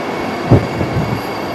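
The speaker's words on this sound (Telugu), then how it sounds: "వందే భారత్ ట్రైన్ అయితే ఇక్కడ ఉంది" A Vande Bharat express train rumbles steadily nearby at a station with a faint clack of wheels on rails, loud and continuous.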